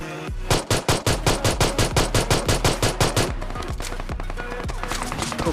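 A pistol fired in the PUBG Mobile battle game: a rapid, evenly spaced string of about twenty loud, punchy shots, followed by a softer, busier tail of game sound effects.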